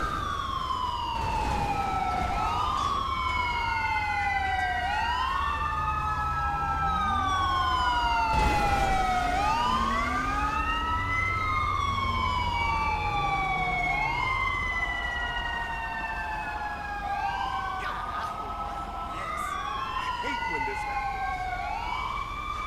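A fire truck siren responds in the police game GTA V LSPDFR, wailing in loud, continuous rising and falling sweeps as other siren tones overlap, over a low engine rumble.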